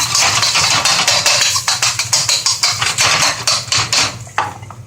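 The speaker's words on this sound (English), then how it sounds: "I'm going to give it a quick stir and chop it up." A utensil stirring and chopping scrambled egg in a pan while cooking pad thai, with rapid, close metallic scraping and tapping in an irregular rhythm over a low background hum.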